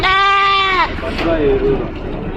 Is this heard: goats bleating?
yes